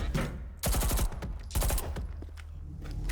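Bursts of rapid weapon fire from an operator's gun in Rainbow Six Siege, two loud volleys of closely spaced shots separated by quieter stretches with faint footstep-like noise.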